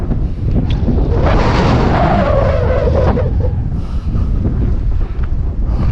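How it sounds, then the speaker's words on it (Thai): Strong wind buffets the microphone at a fenced cliff-top viewpoint at Phu Pha San in Mukdahan, Thailand, as a loud, roaring rush that swells and eases without pause, with no one speaking. "ลมแรงมากครับ"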